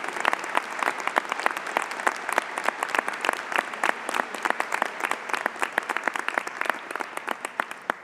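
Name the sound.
audience applause at convocation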